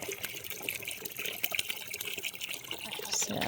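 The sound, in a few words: water filling a chicken waterer from a hose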